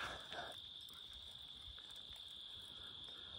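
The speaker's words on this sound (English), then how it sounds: "There's all the crickets and things." Steady high-pitched cricket chirring fills the night air continuously beside a campfire pit, a dense insect drone with faint background noise and no talk.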